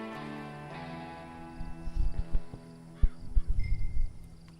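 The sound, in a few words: horse hooves in video game Red Dead Redemption 2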